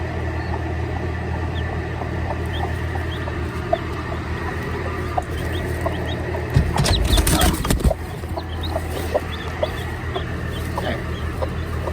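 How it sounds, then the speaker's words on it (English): Hen clucking on a homestead beside newly hatched baby chicks, soft repeated clucks and faint peeps over a steady low hum, with a brief louder rustling burst midway. "Brand new baby chicken."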